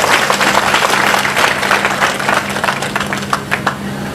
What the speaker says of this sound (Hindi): तो मुझे लगता है जोरदार ताली बजानी चाहिए आपको।